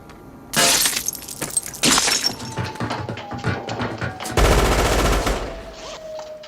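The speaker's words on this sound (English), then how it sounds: "He's still just out there firing." Gunfire in the 1971 film Dirty Harry: loud bursts of rapid shots with shattering, crashing impacts, several dense volleys separated by brief lulls, under a low background hum.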